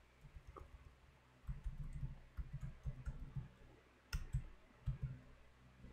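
Soft clicking keystrokes on a computer keyboard as a GitHub web address is entered, faint irregular taps coming in short bursts against a quiet background with no speech.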